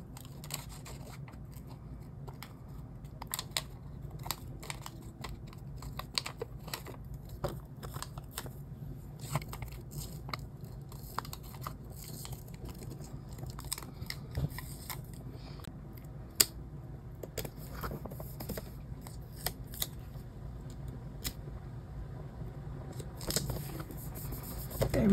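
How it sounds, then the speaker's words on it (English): Scissors snipping a small piece off a planner page decoration, crisp quick cuts repeating close up with faint paper rustle between them and no talk. "I just want to cut this."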